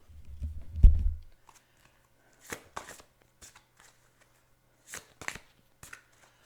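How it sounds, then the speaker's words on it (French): Cards drawn for a card reading: a close rustling shuffle at the start, then a few soft, scattered card snaps and slides in a quiet room, with no talking. "On a tiré encore quelques cartes là-dessus pour donner un peu plus."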